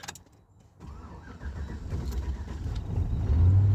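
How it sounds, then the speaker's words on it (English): A 2006 Chevy Tahoe police interceptor V8 cranks roughly and catches, the starter churning into a building low engine rumble that grows louder toward the end. "that was a rough crank right there"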